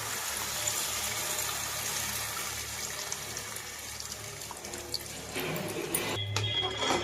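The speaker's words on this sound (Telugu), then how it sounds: "మనం ముందుగా నానబెట్టి పక్కన పెట్టుకున్న చింతపండు పులుసుని వేసేసుకుందాం" Soaked tamarind extract pours steadily into a pan of bitter gourd curry, giving a continuous watery splashing and trickling close by, with a brief louder gush near the end.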